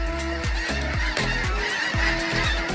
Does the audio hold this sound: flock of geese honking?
yes